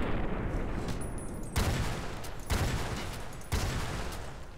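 Three heavy, booming sniper rifle shots in Fallout: Tale of Two Wastelands, spaced about a second apart, each with a loud sharp onset and a long decaying tail over a steady background hiss.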